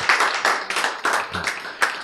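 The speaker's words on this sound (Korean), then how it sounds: "박수 한번 보냅시다" A lecture audience at a NEWSTART health talk claps in a short, uneven burst, individual hand claps standing out sharply and close.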